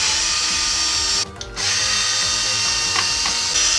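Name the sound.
unscrewing screws from an HP Omen 25 desktop PC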